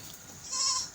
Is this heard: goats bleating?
yes